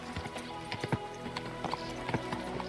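Horse hooves clip-clop at a walking pace in the video game Kingdom Come Deliverance II, irregular close footfalls over a soft background bed, fairly faint overall.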